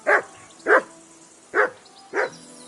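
A dog barks four times in a steady, evenly spaced rhythm, each bark loud and close with nothing else heard between them.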